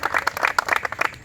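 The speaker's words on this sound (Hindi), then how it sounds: "जोरदार ताली पर भाई।" Lively applause from a gathered crowd at a physical training academy in Nalanda district, honoring a trainee, with quick overlapping claps in uneven bursts, close and fairly loud.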